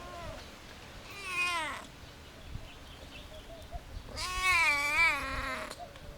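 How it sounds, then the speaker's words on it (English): A thin street cat in Aswan, Egypt, meows twice close by, each call long and wavering, with a quiet pause between them and no talking. "That's a really thin cat."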